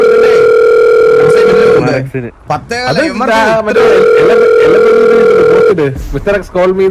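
A phone ringback tone sounds in two long, steady electronic bursts with a gap between them while the call goes unanswered; a voice speaks briefly during the pause.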